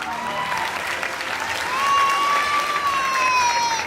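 A convention audience at a Game of Thrones panel at Paris Manga claps steadily, with a few whistles and faint cheers rising over the dense applause.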